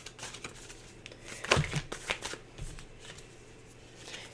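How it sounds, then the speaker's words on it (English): A deck of tarot cards is shuffled close up, a quiet run of riffling flicks and soft taps with one brisker burst in the middle, mostly alone against a low background hum. "Just going to pull some cards for you here."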